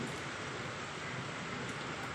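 Rain falling steadily outdoors where children are playing near a building, a dense even hiss with no breaks and no voices.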